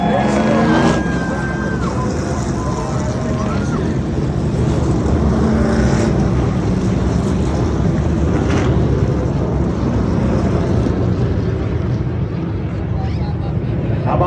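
NASCAR Craftsman Truck Series trucks rolling through parade laps at Rockingham Speedway, a continuous engine drone heard from trackside with a public-address announcer talking over it.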